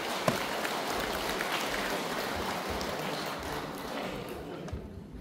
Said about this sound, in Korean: 뜨거운 환영의 박수 부탁드리겠습니다